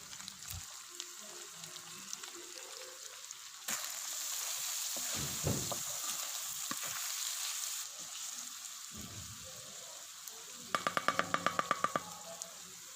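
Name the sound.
chopped tomatoes frying on a tawa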